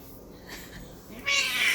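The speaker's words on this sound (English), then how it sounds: "I swear, this little kitty." A pet cat meows indoors, a close, clear cry rising loudly near the end after a quieter stretch, with no talk over it.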